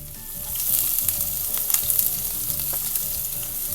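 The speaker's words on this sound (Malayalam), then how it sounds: "കടുക് ഒന്ന് പൊട്ടി വന്നതിന് ശേഷം നമുക്ക് അതിലേക്ക് നമ്മൾ ചെറുതായിട്ട് അരിഞ്ഞു വെച്ചിരിക്കുന്ന സവാള ചേർത്ത് കൊടുക്കണം" Finely chopped onions hit hot oil just after mustard seeds have popped, a loud steady close sizzle filling the pan with faint stirring scrapes, no voices.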